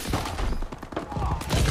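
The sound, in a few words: gunfire in the video game Call of Duty: Advanced Warfare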